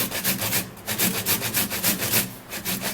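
A tomato is grated in quick, rhythmic strokes, each a close, raspy scrape that repeats about three times a second.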